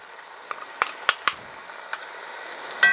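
Onions and garlic sweating gently in a Dutch oven for birria, with a soft, low sizzle running throughout and a handful of sharp little pops and crackles scattered across it.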